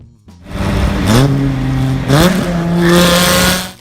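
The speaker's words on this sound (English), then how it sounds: "The 1992 Dodge Viper RT/10 arrived with an 8-liter V10" A 1992 Dodge Viper RT/10 with an 8-liter V10 revs hard and loud up close, rising in pitch through two quick gear pulls before settling into a strong steady drone.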